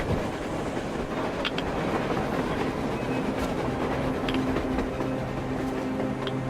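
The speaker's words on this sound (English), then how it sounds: "A train! A damn train on the surface!" A train in the video game Metro Exodus rumbles past nearby, a loud continuous roar with low droning tones and occasional metallic clanks, no voices.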